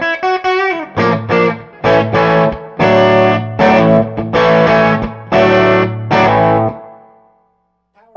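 Fender Telecaster played through a Jackson Ampworks New Castle 30 head with power scaling at full, loud driven chords struck in a rhythmic series of sustained hits, ending with a ringing decay and then silence.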